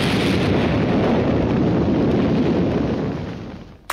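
Warship main guns fire in Call of Duty: Infinite Warfare, a huge blast that rolls on as a dense, roaring rumble for several seconds before fading, with a sharp pop right at the end.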